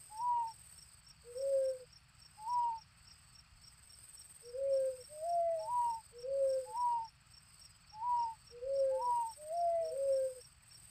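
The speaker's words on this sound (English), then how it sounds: "That sounds like an owl." An owl in the Barbie Race and Ride video game hoots in a repeated series of two-note calls, about a dozen clear hoots over a constant chirping cricket and insect background.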